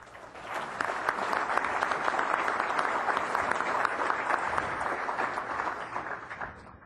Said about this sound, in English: Please welcome Dale Reese with a warm round of applause